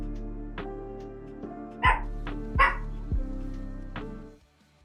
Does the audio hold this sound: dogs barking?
yes